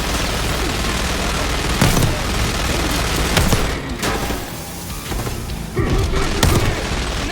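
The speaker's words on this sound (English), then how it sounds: "Shotgun blast." Heavy gunfire and booming blasts in Call of Duty Black Ops 6, including a shotgun blast among dense, continuous firefight noise with several louder bangs spaced a second or two apart.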